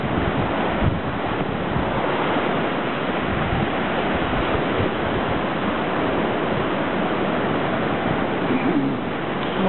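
Steady roar of sea surf washing continuously on the Italian coast in spring, mixed with wind buffeting the microphone, fairly loud with no voices.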